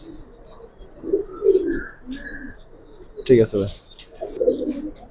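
Giribaz and coloured pigeons coo in soft low bursts, with a few chirps mixed in, fairly close, while people talk briefly between the calls.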